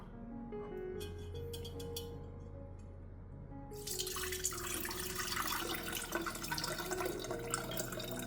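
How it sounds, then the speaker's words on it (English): Lemon extract liquid is strained through a filter and drips and trickles faintly into a container, starting as light, sparse drops and turning into a steadier pour midway. "we will strain out the residue and keep only the clear extracted liquid"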